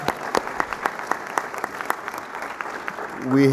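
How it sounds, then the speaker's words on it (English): Sparse applause at a political meet-and-greet for a county sheriff: a handful of distinct, separate claps spread through the room, fairly light, thinning toward the end, where a voice starts to speak. "We'll give him a round of applause."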